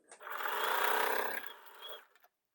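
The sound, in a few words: sewing machine sewing quilt block pieces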